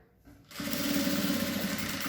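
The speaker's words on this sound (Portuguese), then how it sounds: "eu posso vir aqui na máquina, sem medo, e já passar lá toda essa costura" A sewing machine stitches a seam of bias binding on a fabric car trash bag with pockets, starting after a short quiet moment and running as a loud, steady whirring hum to the end, with no talking.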